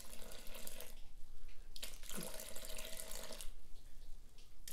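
Water poured from a tap into a bowl sitting on a kitchen scale for pizza dough, a close, steady rushing stream that briefly swells louder in the middle before settling, with no talking.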